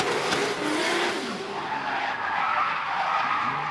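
Liam Burke's drift car squeals its tyres while powering out of the final section during D1NZ Pro-Championship qualifying at Baypark Stadium, a loud sustained screech with engine roar and no talk.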